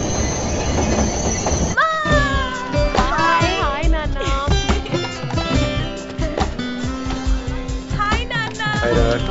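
A train pulls into a station with loud squealing wheels and clattering, rumbling carriages that continue close by throughout, while people talk over the noise.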